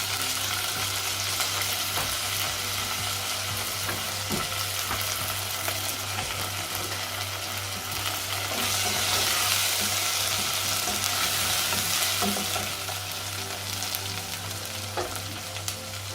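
Garlic and ginger sizzle and fry with browned onion in a pan, a loud, steady, close hiss with occasional stirring, no voices.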